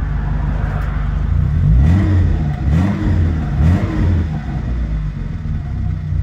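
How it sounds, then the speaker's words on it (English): A 1974 Fiat 128 SL coupe with a small 1.1-litre engine gives a raspy, buzzing note, blipped up and down in three quick revs close by, with a steady idle between them. "It's got that beautiful, typical rasp."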